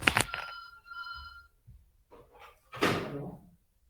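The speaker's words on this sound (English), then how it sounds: "Just wait, one phone call is there, landline." A landline telephone rings indoors with a bright electronic trill in one short burst at the start, followed by quieter room shuffles and a louder rustle or knock near the end.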